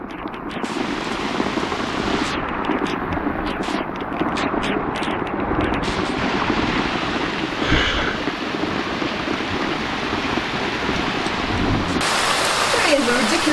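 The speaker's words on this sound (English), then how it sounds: "it's definitely raining." Heavy rain pours down outside a cave house, a loud, dense and unbroken hiss of drops pattering on surfaces that holds steady from start to finish.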